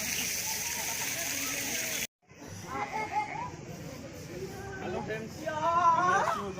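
Water runs in a scenic park with deer and peacocks at dusk, a steady rushing wash at first, then fainter beneath people chatting nearby.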